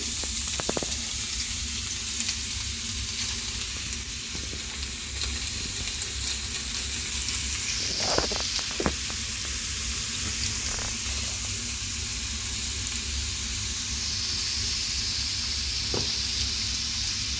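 Carrots sauté in a pan with a loud, even sizzle that runs the whole time, and a few brief scrapes from stirring come through now and then.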